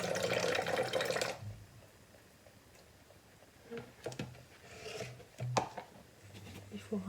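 A hand-knitted sweater is rinsed under a running tap, opening with a burst of gushing water and continuing as quieter splashes and drips while people talk nearby.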